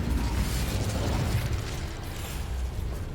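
Bombarda and Incendio spells blast during a Hogwarts Legacy duel, a dense, roaring burst of fiery noise that holds steady and loud through the whole moment before easing slightly.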